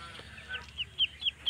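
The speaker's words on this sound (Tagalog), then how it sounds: "may bagong pisang sisiw na naman po" Newly hatched chicks give thin, high peeping chirps, about four short cheeps in a loose rhythm that grows louder toward the end, close to the microphone over a quiet background.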